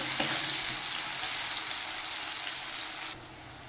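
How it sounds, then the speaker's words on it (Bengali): Steady, dense sizzling of onions frying in hot oil, loud and close, with a brief sharp crackle near the start before the hiss drops away at the end. "পেঁয়াজগুলো একটু হালকা ভেজে নেব"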